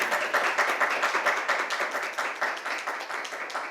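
A small group claps with quick, fairly even strokes for the appointment of a public safety director in St. Louis, moderately near and steady for a few seconds without talk.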